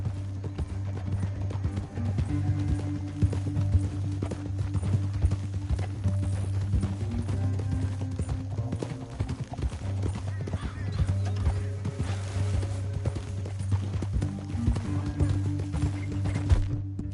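Horses gallop in Red Dead Redemption 2 with continuous rhythmic hoofbeats at close range, steady and fairly loud throughout, with no talk over them.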